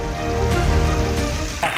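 Steady rain falls during monsoon flooding in Bihar, a dense, even hiss that fills the short stretch at fairly high level with no voice heard.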